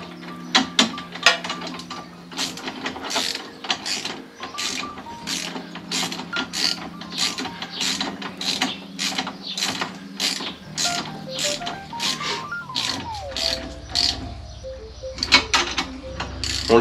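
Ratchet tightening the exhaust fasteners on a Triumph Tiger 900, giving a rapid, regular run of close clicks that goes on for many seconds. The pace changes near the end.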